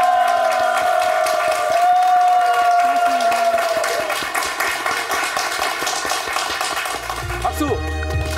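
Studio audience applause on a morning talk show, steady rapid clapping from a crowd beneath a sustained musical tone and voices, continuing loudly to the end.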